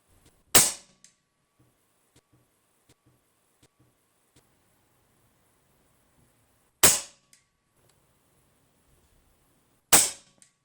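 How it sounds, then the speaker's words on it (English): Three evenly spaced shots from an Airmaks Arms Caiman X regulated bullpup PCP air rifle with a CZ barrel, each a sharp loud crack with a quick decay, separated by several seconds of near silence. "Let me just take some more shots."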